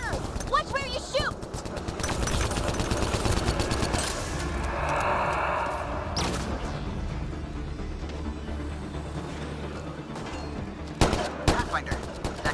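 Gunfire rings out during a firefight in the sci-fi video game Mass Effect Andromeda, repeated shots and bursts running under a steady bed of battle noise, with voices calling out over the combat.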